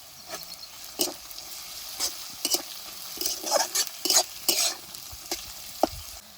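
Crushed ginger is stirred into garlic frying in a pan for village-style paneer do pyaza, with intermittent close scraping stirs over a steady sizzle and no talking.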